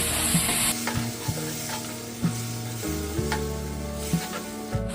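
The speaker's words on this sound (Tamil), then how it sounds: "சேர்த்து ஒரு ஒரு நிமிஷத்துக்கு வதக்கி விட்டுருவோம்" Tomato and tamarind sautéing in a pan for rasam, giving a continuous close sizzle with occasional soft stirring knocks and no voices.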